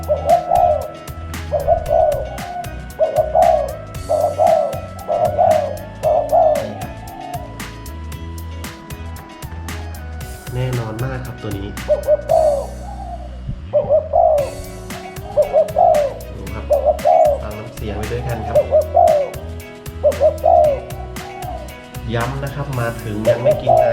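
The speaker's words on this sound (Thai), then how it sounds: "ออกมาได้ยินเสียงนกที่บ้านเราเลยครับ" Soft, repeated coos from a spotted dove recur in steady phrases, with dense rhythmic clicking or tapping throughout and a short gap midway.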